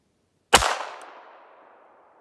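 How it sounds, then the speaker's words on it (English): A single sharp rifle shot fires a 22 LR Aguila Interceptor 40 grain round into ballistic gel outdoors, with a sudden crack and then a long fading echo. "I'm gonna have to shoot at a little bit of an angle here"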